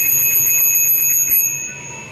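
A free bicycle bell fitted to a mini hybrid bike with 24-inch wheels and alloy rims rings in a steady, bright metallic trill, close and fairly loud, fading slightly toward the end.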